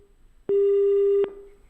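A telephone line tone after a caller's connection drops during a live phone-in farm advice broadcast: a single steady electronic beep lasting under a second, loud and clean, with a faint hiss before and after.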